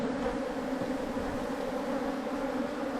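Honey bees in an opened hive during a December bee yard inspection give off a dense, steady, close-up drone of buzzing that holds at an even level throughout, with no speech.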